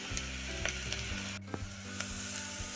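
Whole bay leaf, cinnamon, cloves and cardamom hit hot oil for a mutton curry, crackling in a dense, steady, close sizzle with a few sharper pops and no voices.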